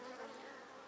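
Dark native honey bees of Apis mellifera mellifera stock hum at an open hive, a faint, steady, slightly wavering buzz over a brief moment.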